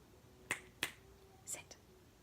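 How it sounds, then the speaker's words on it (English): Fingers snapped indoors, four sharp crisp snaps in two quick pairs, close and clear over a quiet room with a faint background hum. "when I snap my fingers like that, they do actually sit"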